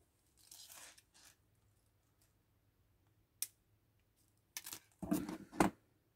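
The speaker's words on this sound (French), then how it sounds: "Je vais venir couper forcément ce qui dépasse" Scissors cutting off excess material in a craft album project, heard as a few short, close snips and crisp crunchy cuts in bursts separated by quiet gaps.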